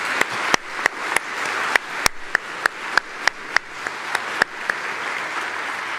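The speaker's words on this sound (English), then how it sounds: "Can we please get a rousing applause" Audience applause at a town hall democracy forum, a steady wash of clapping from a seated crowd with a few sharp, loud individual claps standing out near the microphone, continuing without talk.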